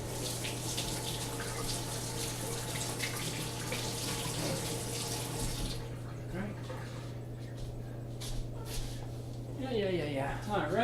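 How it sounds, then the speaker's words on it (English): A kitchen tap runs steadily while hands are washed beneath it, a constant hiss of water over a low mains hum that cuts off partway, followed by quieter kitchen clatter. "Wash my hand real quick."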